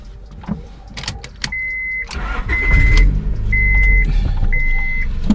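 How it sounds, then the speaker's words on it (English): A Honda Prelude engine cranks and catches, its starter whirring into a steady idle, close and loud, with high electronic chimes beeping in short repeated tones over the running engine. "now you just want to start your car"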